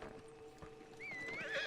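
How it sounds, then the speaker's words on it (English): A horse in a video game, with hooves clopping faintly and then a rising, shaky whinny near the end, quiet under a low ambient hum. "Look at that horse."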